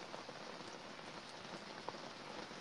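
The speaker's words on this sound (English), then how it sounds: "I didn't actually hear all that question because the rain came down" Rain falls steadily on a surface, a faint, even hiss of fine patter with occasional slightly louder drops.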